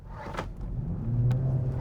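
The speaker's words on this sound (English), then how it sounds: "when you put your foot down, look, exhaust fires, engine comes in" A BMW 330e hybrid with quad exhaust as its petrol engine cuts in under acceleration, a low engine rumble rising in a short rev, heard from inside the car with a brief click.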